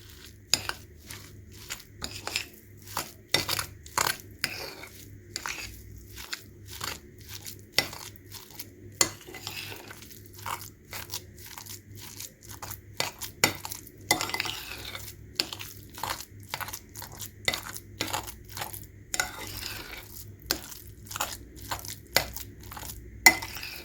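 A spoon stirs an egg and mayonnaise sandwich filling in a bowl, giving repeated close clinks and scrapes against the bowl in an irregular rhythm over about twenty seconds, with no talking.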